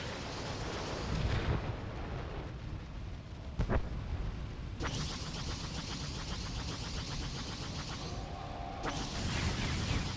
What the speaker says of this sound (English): Cast 4 missiles and got 2 hits